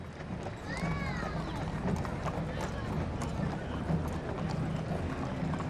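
Horses' hooves clip-clop steadily along the street during the 2025 Appleton Flag Day Parade, a faint, continuous rhythm under outdoor crowd noise and voices.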